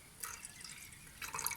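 Water is poured for a pickle brine of about a cup and a half of water mixed with white wine vinegar. Two short, bright splashing bursts come close together, fairly quiet and with no talking.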